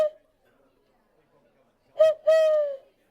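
A person imitates an owl call with the voice: one short hoot at the start, a pause, then a two-part hooting call, clear and close in a quiet room.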